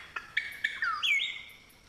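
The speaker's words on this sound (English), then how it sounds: "The palm cockatoo dates back tens of millions of years to when Australia was covered in rainforest." Palm cockatoo in Australian rainforest calling with a series of short, sharp whistled notes that rise into a longer sweeping, slurred call, clear and fairly close over a quiet background.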